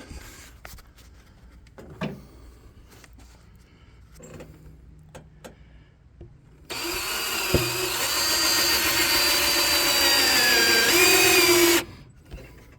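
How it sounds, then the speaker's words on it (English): A power drill drilling a hole in a plastic engine air intake tube whines steadily for about five seconds, loud and close, after a stretch of quiet handling noises and clicks. "I'm going to drill a hole right there."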